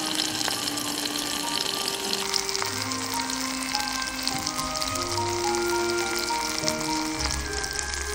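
Mushrooms frying in grapeseed oil at a forest campsite, a steady close crackling sizzle with scattered pops and spits, loud and continuous throughout, with faint tonal background sounds underneath.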